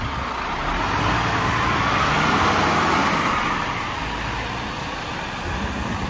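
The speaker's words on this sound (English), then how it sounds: "They're big trucks for these little roads." A large truck drives along a narrow, muddy country road, a steady broad engine rumble holding evenly throughout, moderately loud and fairly close, with no voices over it.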